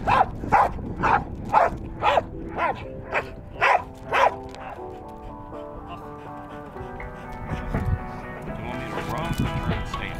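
A police K9 barks repeatedly in bite training, seven or eight loud, evenly spaced barks up close, then a sustained whine and whimpering under faint background talk.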